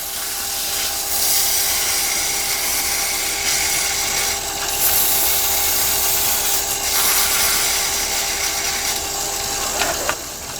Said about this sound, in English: I do a bit of sanding. I use a 150 grit just to brush it off.